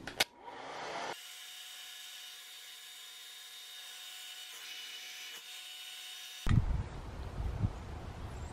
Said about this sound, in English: grab your blow dryer and dry the glue.